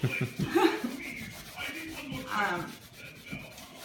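Cleaner and a cloth scrub dry erase marker off a wall painted with Glidden paint, close-up uneven rubbing strokes with faint voices and a chuckle in the background.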